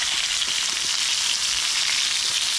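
Bangda mackerel fries on a wood-fired chulha stove, giving a dense, continuous loud sizzle that holds steady throughout, close up and alone without any voices.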